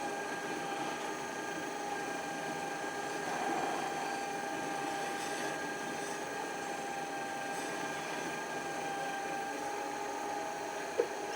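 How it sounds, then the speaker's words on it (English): A motor-driven buffing wheel polishes a brass bell, giving off a steady whirring hum with tonal overtones, a slight swell partway through and a brief tick near the end. "Let the buffing wheels do the work, so the buffing wheel will polish the metal"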